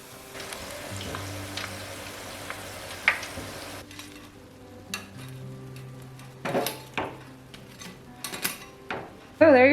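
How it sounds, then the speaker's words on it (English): Sri Lankan parippu wade lentil fritters deep frying a second time in hot oil, giving a steady close sizzle for a few seconds that then gives way to clinks of utensils and pans. "I'll put them in a second time and deep fry them a second time."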